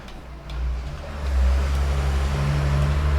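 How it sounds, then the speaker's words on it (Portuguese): Truck passing along a city street under construction, a low engine rumble swelling from faint to loud and holding steady nearby, with no talk over it. "Tem um caminhão passando aqui."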